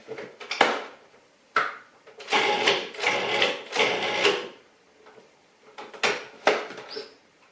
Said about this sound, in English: I'm going to put the lid on and I'm going to pulse it just a couple of times to mix it